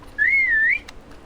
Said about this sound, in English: Franz lets out a long, dramatic whistle.